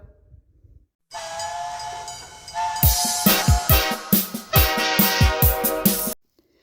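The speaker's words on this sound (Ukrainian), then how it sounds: "Відправляється лісовий потяг." A steam train whistle sounds as a forest train departs: a long sustained tone, then rhythmic chuffing puffs of steam under repeated whistle blasts, loud and close, ending abruptly.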